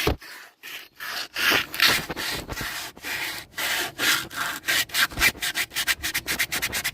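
A car's front hub area on a Ford Falcon is scrubbed by hand with fine sandpaper in steady, close, rasping back-and-forth strokes that speed up toward the end, with no voices.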